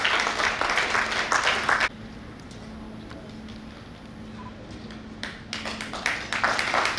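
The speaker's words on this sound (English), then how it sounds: "can we have a big round of applause, please?" Audience applause at a school alumni meet, loud clapping that breaks off into a quieter room hush before the crowd starts clapping again near the end.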